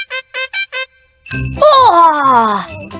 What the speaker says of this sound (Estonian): See pole etenduse algus, vaid Madame Caselli telefonihelin.